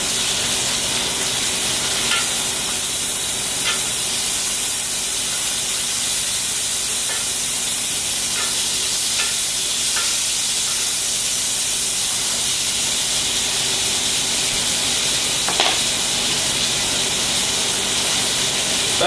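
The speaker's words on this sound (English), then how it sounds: "I'm going to baste it again just for fun." A New York strip steak sizzles loudly and steadily in a pan as it is basted, a dense, constant frying hiss with occasional spits and pops throughout.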